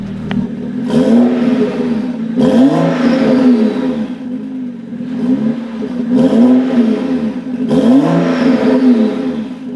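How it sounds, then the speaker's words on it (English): A modified BMW X3 35i engine with an upgraded intake and turbo revs hard several times in a row, each rise in pitch followed by a drop back to idle, loud and close. "Let's go ahead and get a few revs."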